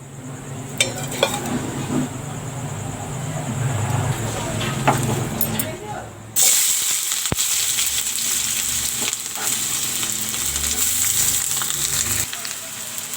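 Oil heating in a pan for a capsicum cashew curry, a soft hiss that bursts into a loud, steady sizzle halfway through, with occasional utensil clinks and a voice in the background.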